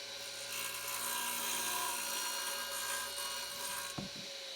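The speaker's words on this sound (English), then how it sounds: "we'll turn the saw on and cut that little slot in there" A 1940s DeWalt radial arm saw hums steadily with a whining motor and a dense rasping texture as it cuts a slot into a wooden sacrificial fence, then ends with a brief knock near the close.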